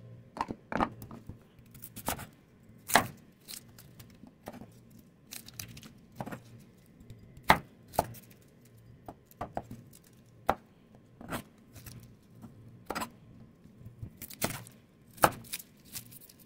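Garlic is chopped with a knife on a board for a coconut-milk tilapia dish: crisp, irregular knife strikes, some single and some in quick pairs, over a quiet background.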